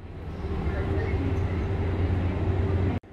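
A steady low rumble of a mountain train idling at Yeongju station fills the space with constant broadband noise from nearby, ending in a brief sharp cutoff.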